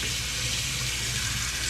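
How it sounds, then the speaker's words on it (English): Steady washroom tap water runs in a continuous broadband rush, rinsing a 2024 Harley-Davidson Road Glide part from the inside out, close and even throughout with no talk. "All right, we're going to rinse it."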